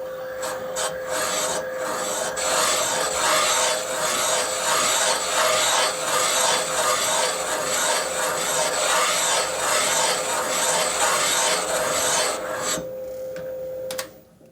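Continuous harsh rasping of a cutting tool grinding a valve seat in a Harley big-bore cylinder head, steady and close, with rhythmic scraping strokes that stop abruptly near the end.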